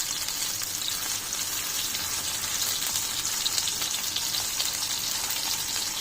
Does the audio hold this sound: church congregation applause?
no